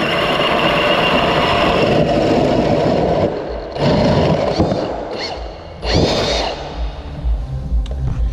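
A Milwaukee Super Hawg cordless drill on a fresh 9.0 battery bores with a hole saw, a loud close motor whine under load that cuts out and restarts in short bursts near the end.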